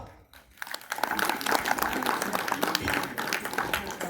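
An audience at a Tamil speech event breaks into applause after a short lull, with dense, sustained clapping of many hands close by.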